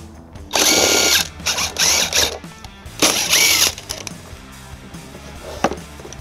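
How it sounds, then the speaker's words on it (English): A power tool with a 10mm socket removes bolts from a driver's side panel on a 2021 Toyota Sienna, sounding in two loud whirring bursts of about a second each with quieter clicks and handling noises between. "We're going to use a 10mm socket to remove them."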